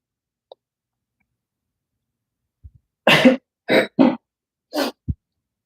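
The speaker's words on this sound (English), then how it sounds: "Sorry for coughing in your ear." A few sharp, separate coughs in a quiet room, fairly close, with short pauses between them and one softer throat sound at the end.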